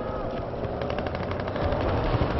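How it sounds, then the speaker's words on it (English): Continuous rattling machine-gun fire in a Panama Canal multiplayer battle, steady and dense for the full length, with overlapping shots all around and no voices. "I hear firing all around me"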